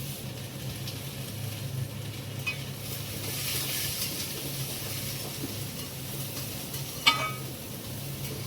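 Vegetables fry in a pan for vegetable paneer fried rice, a quiet continuous sizzle with faint stirring and one short clink of utensil against pan, no talking.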